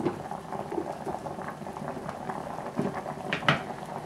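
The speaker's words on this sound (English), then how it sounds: "Now the water is boiling." Water with chestnuts in a pot bubbles and roils at a steady boil, a busy close gurgling with occasional louder pops.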